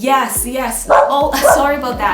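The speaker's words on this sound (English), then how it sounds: "I think that's just a neighbor's dog." A neighbor's dog barks and yips in a quick repeated run of several bursts, loud and steady, while a person talks over it in a home setting.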